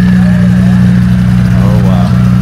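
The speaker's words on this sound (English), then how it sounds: "Ferrari coming in, Lamborghini." Ferrari and Lamborghini race cars rolling in at Sonoma Raceway during a GT World Challenge event, their engines giving a loud, steady low drone close by.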